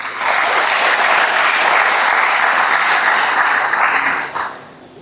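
At a graduation ceremony, the audience gives the parents a loud, full round of applause, a dense, even roar of many hands that holds strongly for about four seconds and then tapers off quickly.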